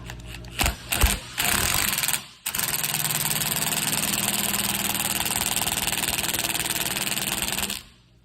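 An impact wrench spins off a 19 mm nut on the rear toe adjustment link of a 1997-2004 C5 Corvette, loud short bursts first, then a sustained rattling hammer for several seconds before stopping.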